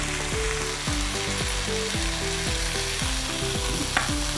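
Tandoori chicken sizzles and fries in a pan, a continuous crackling hiss with repeated scraping stirs of a utensil in a steady rhythm, close and moderately loud.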